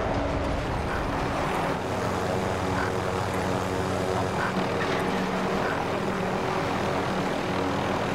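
Helicopter in a video game, a steady loud rotor and engine drone running without a break under faint background game noise.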